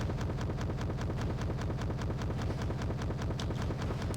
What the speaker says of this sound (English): he was firing non-stop at the side armor